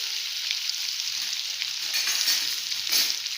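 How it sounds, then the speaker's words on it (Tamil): Paneer cubes frying in hot oil in a pan over low heat, a steady close hiss and sizzle with faint crackles and occasional stirring, heard alone without any voices. "எண்ணெய் காஞ்ச உடனே இந்த பனீரை போட்டு அப்படியே லைட்டாக ஒரு ஃப்ரை பண்ணி எடுத்துக்க போகிறோம்"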